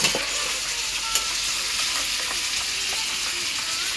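Meat sizzles in a pan on a gas stove while it is stirred, a close, even frying hiss with occasional scraping clicks from the spoon and no talking.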